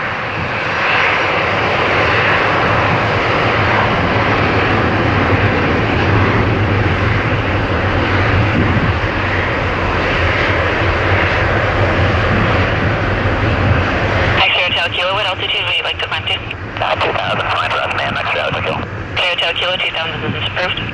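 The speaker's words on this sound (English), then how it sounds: "heavy tower 737 starting the takeoff roll" A Boeing 737 begins its takeoff roll at Toronto Pearson airport with a loud, continuous jet engine roar, and crackly radio air-traffic-control speech comes in over it in the final seconds.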